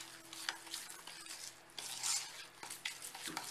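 A sugar scrub with lemon zest, lemon and flower pods is mixed in a bowl, with soft gritty stirring and scraping strokes, a few light clinks of a utensil against the bowl, fairly quiet and close.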